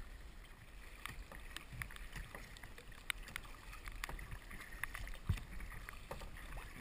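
Sea kayak paddles pulling through water at Deep Cove, repeated splashing strokes in an uneven rhythm over steady wind and open-water ambience.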